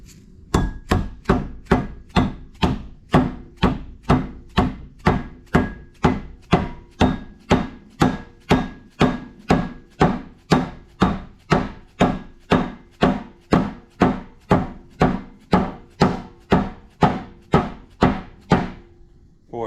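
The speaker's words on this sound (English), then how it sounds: "I got the mallet. Fresh out of the freezer." A rubber mallet strikes a frozen seal again and again, a steady series of about thirty dull, close thuds at a regular rhythm with no talking.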